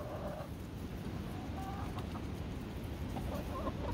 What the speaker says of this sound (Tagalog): Yan ang mga manok guys